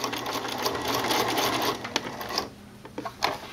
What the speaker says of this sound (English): if I just put this in the machine and sew, let's say about 1/4 inch or so away from the edge